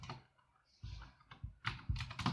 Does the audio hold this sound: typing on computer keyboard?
yes